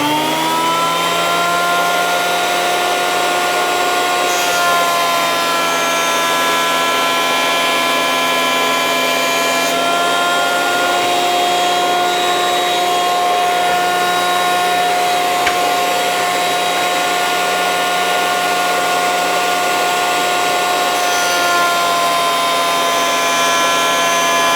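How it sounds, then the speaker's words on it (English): A hand plane works the edge of a small wooden Christmas ornament piece, but the sound is a loud, continuous, steady motorized whine, likely a power planer, running without pause throughout. "I'm going to plane this edge here"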